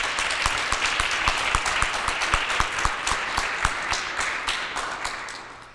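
A crowd at a school-choice pep rally applauding speakers, a mix of scattered sharp claps over a dense clapping wash that gradually thins and fades out.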